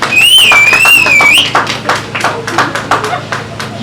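An audience at a comedy show breaks into applause, a burst of uneven claps following a shouted voice that briefly tops the noise.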